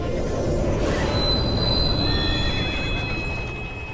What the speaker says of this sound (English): They were hit by a train.